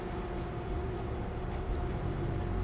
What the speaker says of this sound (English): Get the train going.